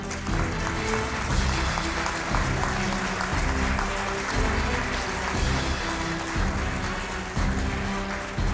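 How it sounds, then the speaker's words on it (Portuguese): An award ceremony audience applauds at the Milton Vargas Prize presentation. Continuous clapping runs throughout at a steady level, mixed with a low sustained musical background. "Pode aplaudir de novo, sim, não tem problema."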